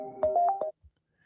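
An incoming call rings on a call-in show's phone line: a short electronic ringtone burst of a few rapid pulses, then it cuts off into near silence.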